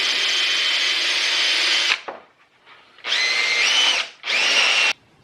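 A power drill bores through a hat in loud, steady whirring bursts, one long run, a pause with faint rattling, then two shorter runs that rise slightly in pitch as the bit works through.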